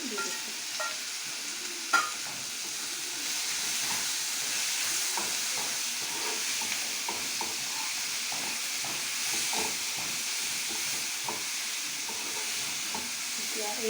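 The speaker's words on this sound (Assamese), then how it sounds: "এই যে বাছি যোৱা আদা নহৰু পেষ্টখিনি ইয়াতে দি দিছোঁ" Ginger-garlic paste frying in a pan for kofta gravy, a steady close sizzle and hiss with scattered stirring scrapes throughout, continuous and alone.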